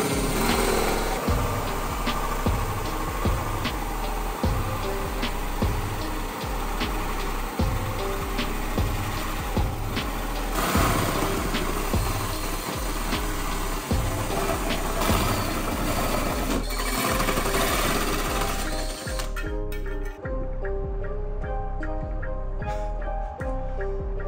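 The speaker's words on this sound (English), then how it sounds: "we just kind of stepped up the width of the drill bits to fit the hole saw drill bit" A drill drives a hole saw bit through a vehicle fender during a snorkel install, grinding loudly and continuously with rhythmic clunks and chatter before the noise thins near the end.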